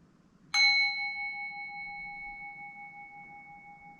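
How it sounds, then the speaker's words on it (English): A singing bowl is struck once, giving a clear metallic strike followed by a long, pure ring that slowly fades in near silence. "I'm gonna bring our singing bowl."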